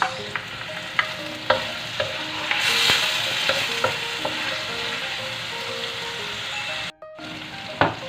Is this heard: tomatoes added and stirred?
yes